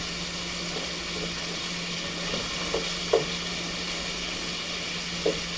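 Cajun-style Andouille smoked sausages fry in a pan, giving a steady, even sizzle throughout with a low hum beneath and a few faint clicks of stirring or turning.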